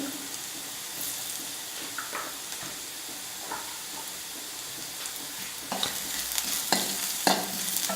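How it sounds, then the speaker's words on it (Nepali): Onions fried until red get stirred with turmeric and salt for Nepali-style dal fry, a soft steady sizzle broken by scattered scraping stirs and light clinks, growing busier toward the end. "अब म यसमा थोरै बेसार र नुन पनि राखिदिन्छु"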